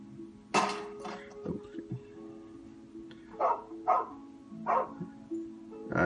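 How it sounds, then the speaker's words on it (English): A dog barks several times in short, sharp yaps spread across a few seconds, fairly close, with a faint steady hum underneath and no talking. "so you guys don't have to deal with my dog barking"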